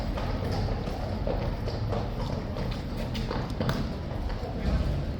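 Horses' hooves clip-clop on pavement amid a crowd at a King's Guard post, steady irregular clopping under a constant murmur of voices and background chatter.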